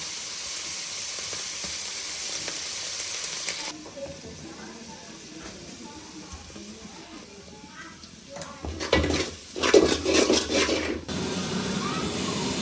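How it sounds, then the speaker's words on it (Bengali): Spice masala frying in a pan, a soft steady sizzle and hiss that swells louder near the end, heard under a person talking. "মশলাটা একটু কষায় নিতে হবে"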